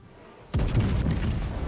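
Naval gunfire in the video game World of Warships, including the battleship Hood: after a quiet moment, a sudden deep boom erupts and rolls on as a sustained, rumbling roar, loud and close.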